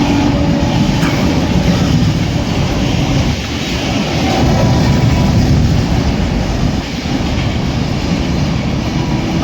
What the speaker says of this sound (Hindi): उस तरफ निकल रही है खजुराहो गीता जयंती एक्सप्रेस